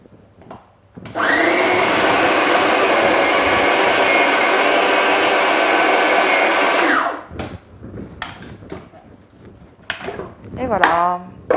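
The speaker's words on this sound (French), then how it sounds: "on va repasser un petit peu au robot et après on va le travailler à la main" Food processor whirring loudly for about six seconds as it blends crumble dough for a savory fish crumble, then stopping, followed by clattering and a voice.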